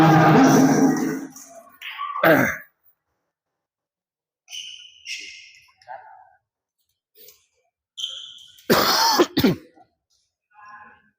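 Harsh throat-clearing coughs sound close by in short bursts at a badminton match, separated by quiet gaps and some sharp clicks.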